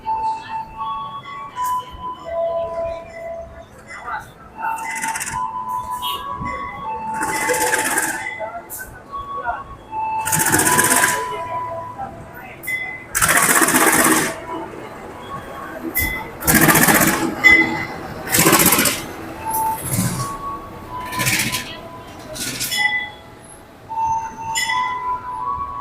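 A train rumbles and hisses at a station near Pariaman, Indonesia, in bursts while someone talks over it throughout.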